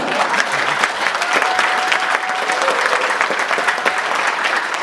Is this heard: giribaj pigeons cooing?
no